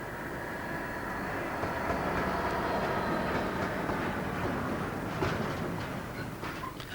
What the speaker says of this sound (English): Heading for the North London line is the lightly loaded Harwich to Wembley Enterprise service.